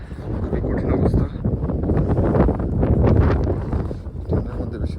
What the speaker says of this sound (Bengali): প্রচণ্ড বাতাস, আজকে